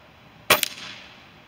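Single shot from an Umarex Gauntlet .22 PCP air rifle, a sharp close crack with a brief secondary snap, then quiet.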